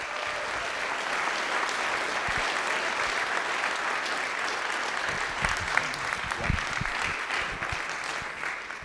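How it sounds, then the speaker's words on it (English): A room full of people at a school board of education meeting clap steadily for students, dense sustained applause at an even level throughout. "One more round of applause for all our students."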